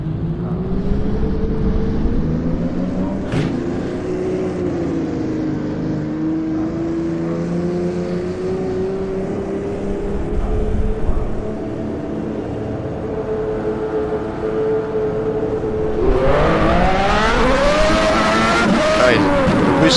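Lamborghini version of a Formula McLaren MP4/8 racing car engine in rFactor 2, a steady high droning whine that rises and falls in pitch, then surges louder near the end, with voices talking over it.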